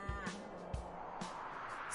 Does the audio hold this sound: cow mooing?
yes